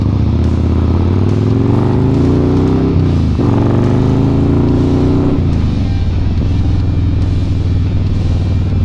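A Harley-style motorcycle engine, loud and close, revs up in rising, steady pulls with a brief dip between them before settling into a rumbling idle, with no talking over it.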